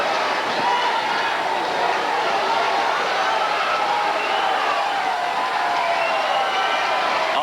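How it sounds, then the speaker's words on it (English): A baseball crowd on the third base side roars steadily from start to finish, a dense, constant cheer of many voices with no pause. "The crowd carrying us home from the third base side."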